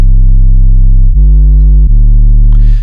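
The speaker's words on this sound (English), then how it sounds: "So it's a pretty loud bad boy sub." A very loud synthesized sub bass tone holds a deep, pure pitch and steps through three sustained notes in under three seconds, with no voices.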